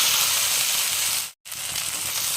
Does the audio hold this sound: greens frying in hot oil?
yes